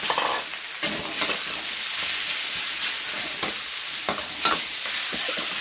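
Eggs with naem, a Thai fermented pork sausage, fry in a little hot oil, giving a steady loud sizzle throughout, with a few scraping stirs of a utensil in the pan and no voices.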